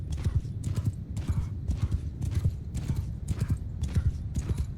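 Cavalry horses gallop in a Mount & Blade 2 Bannerlord battle, a rapid rhythmic thunder of many hooves pounding continuously, with battle shouts and commands in the background.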